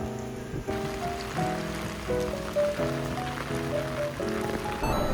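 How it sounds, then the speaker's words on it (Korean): Heavy rain pours down on a street in Osaka, a steady broad wash of falling water beneath a bright sustained musical tone that changes pitch every second or so. "나왔는데 비가 너무 많이 내려요."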